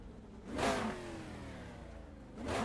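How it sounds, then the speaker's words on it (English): A modded car in Assetto Corsa revs its engine in two swelling passes, a near, rising vroom that builds and fades, then starts to climb again. "Decent sound out of the engine."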